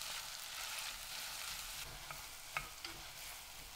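Chicken browning in oil in a home pan for a Taiwanese cabbage vegetable soup, with onion, celery and carrot going in, giving a steady soft sizzle with a few faint clicks of a utensil, no talking.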